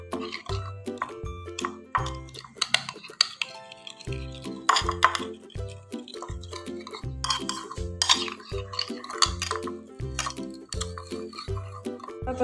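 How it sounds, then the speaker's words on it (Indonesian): Yakitori marinade of ginger, garlic and cornstarch being stirred in a bowl, with repeated wet squishing strokes and light clinks of a utensil against the dish in a steady rhythm, close and clear. "Jahe cincang dan bawang putih. Yang terakhir, maizena. Kita aduk."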